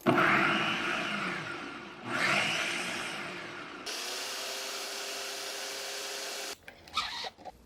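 A blender purees steamed kabocha squash and vegetables with vegetable stock, whirring in bursts, pulsing twice, then running in a steady high whine before stopping with a few rattling clatters.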